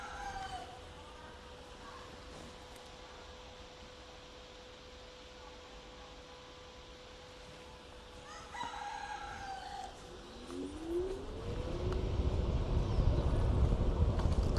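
Rooster crowing in a rural Japanese town, a drawn-out cock-a-doodle-doo a little way off, repeated a few times over a steady background hum, then buried under a rising rumbling noise near the end.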